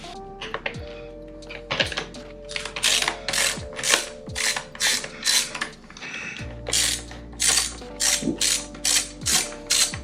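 Ratchet removing screws from BMW steering wheel trim, rapid rhythmic clicking in repeated bursts, close and crisp, with brief pauses between strokes.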